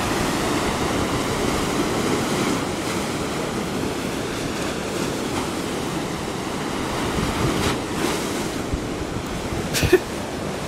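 Waves crash and wash continuously on the rocky shore at Scarborough, with wind buffeting the microphone and a louder surge near the end; no voices.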